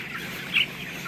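Fifteen-day-old broiler cockerels murmur in a poultry farm shed, a steady low flock hum with one brief louder cluck near the middle.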